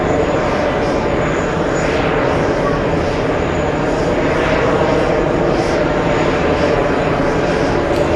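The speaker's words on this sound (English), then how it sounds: "Here we are with an LA flight on an A330 Neo, flight 939" An Airbus A330neo airliner arriving at JFK as flight 939 from LA gives a steady, loud engine roar that holds evenly throughout, with a faint voice underneath.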